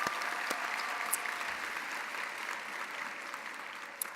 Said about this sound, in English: One last round of applause for our student performers.